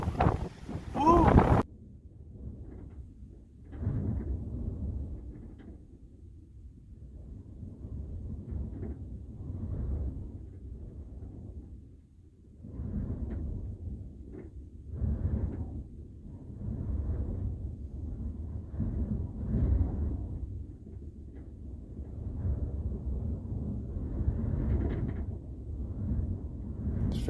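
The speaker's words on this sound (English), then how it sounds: "That noise you hear, that rattling, is stuff hitting the van on the outside." A windstorm with 50 to 60 mph gusts buffets a van overnight in El Centro, California: steady roaring wind with surging gusts and faint rattling of debris striking the outside, after a brief loud burst at the start.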